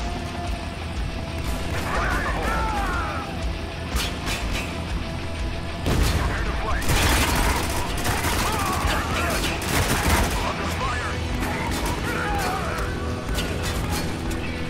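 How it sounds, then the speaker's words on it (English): In Spec Ops: The Line, dense gunfire crackles continuously, with bursts and sharp shots over a loud battle din that swells around the middle, and voices are heard faintly beneath. "There's some guy shooting at me"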